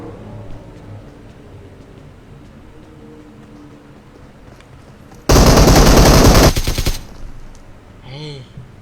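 Automatic gunfire in a shooting video game: a loud, dense burst of rapid shots lasting about a second and a half breaks through quieter background game noise, followed by a few faint chirping effects.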